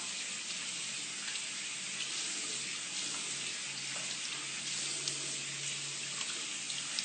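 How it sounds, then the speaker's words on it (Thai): Running water rinses a skin product off a face, a steady, even splashing hiss close by with no talk over it. "เสร็จแล้วก็ล้างออก"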